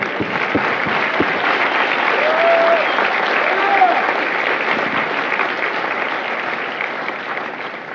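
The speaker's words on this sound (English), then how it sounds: "please join me in a round of applause for the families of Mike Company" A large crowd applauds in sustained, dense clapping at a Marine Corps recruit graduation ceremony at MCRD San Diego, with a couple of brief whistles rising over it.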